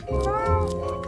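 A cat in the video game I Am Cat gives a single drawn-out meow, loud and close, with a voice speaking over it.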